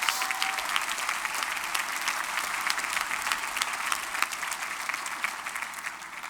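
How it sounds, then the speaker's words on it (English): A graduation audience applauds parents and families in a steady, dense round of clapping from a large crowd, holding at an even level from start to finish. "I think you deserve a huge round of applause"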